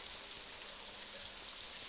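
Steady rain hisses down throughout during an outdoor Bhojpuri romantic song shoot, a dense, even wash of bright drops with no talk over it.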